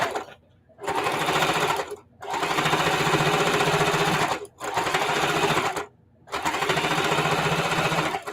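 A sewing machine stitches in the ditch on a quilted scrappy table runner, running in four loud, steady bursts separated by brief pauses, with no talking over it.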